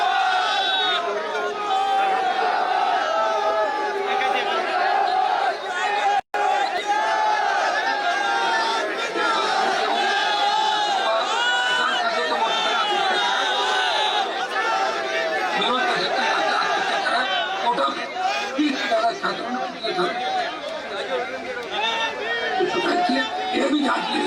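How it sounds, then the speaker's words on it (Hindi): A large crowd at an RLP political rally in Rajasthan, a dense, continuous roar of chatter, shouting and cheering close by, with a brief dropout partway through. "देखिए यहाँ पर भारी भीड़ है"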